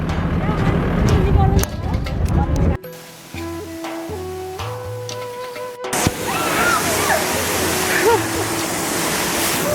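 Water splashing and sloshing loudly during a playful water fight, broken by a quieter stretch, with excited voices mixed in.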